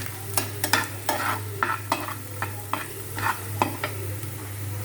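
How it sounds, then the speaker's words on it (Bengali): Garlic frying in oil while being stirred: a string of distinct scraping, clacking spoon strokes over a light sizzle and a steady low hum, close and moderately loud. "তেলে ভেজে নেব"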